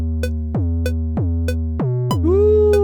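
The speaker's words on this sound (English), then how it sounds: "I have my 808 sound right here" Deep sliding 808 bass from a Serum synthesizer preset, played alone as a run of heavy sustained notes, each dropping in pitch at its start, with a brighter higher note near the end.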